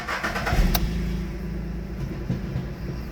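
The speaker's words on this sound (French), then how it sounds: "c'est un petit moteur essence, bien tranquille" A small petrol car engine running smoothly and quietly, a steady low hum heard nearby for a few seconds with one brief click early on and no talking.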